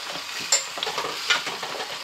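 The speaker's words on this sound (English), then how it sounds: "Give that a good stir, mix it all the way through, make sure all the flavours get into every corner." A bolognese risotto with oregano and basil is stirred in a hot pan, with rhythmic scraping strokes over a gentle sizzle, close and clear.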